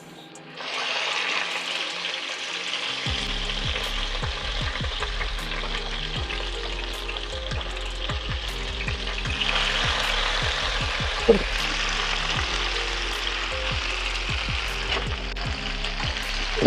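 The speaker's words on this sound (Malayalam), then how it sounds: "ഇനി നമ്മൾ ചിക്കൻ ഇത് ഒരു തവയ്ക്കകത്തിട്ട് ഫ്രൈ ചെയ്യും." Chicken pieces fry on a tawa for masala shawai, a steady close sizzle that runs throughout with repeated scraping and stirring knocks against the pan.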